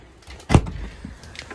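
A small kitchen drawer in a 2012 TravelStar RV is pulled open, giving a single short knock and slide, close and fairly loud, with no talking.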